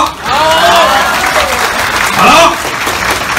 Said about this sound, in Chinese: 给他们热情的掌声，好不好？